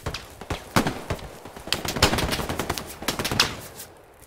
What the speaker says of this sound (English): Somebody's taking shots on me.